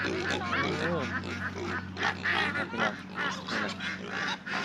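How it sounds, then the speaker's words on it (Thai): Farmyard ducks quack and honk repeatedly at close range in a busy, overlapping chorus, with people talking faintly underneath. "ไปดูเป็ดไปดูเป็ด"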